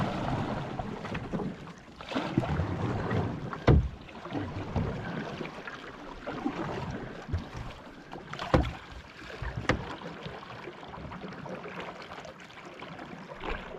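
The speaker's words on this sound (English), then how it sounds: "paddle hard on the right, real hard" Canoe paddles dip and pull through river water on a Bowron canoe trip, giving soft splashes and a few sharp knocks against the hull, faint and irregular, with wind rushing across the microphone.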